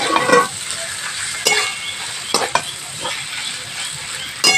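Grated potato with coriander powder and other spices is stirred in a pan, giving bursts of scraping and sizzling a few seconds apart, close and fairly loud over a soft hiss.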